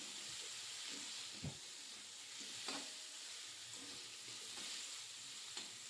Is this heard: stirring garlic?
yes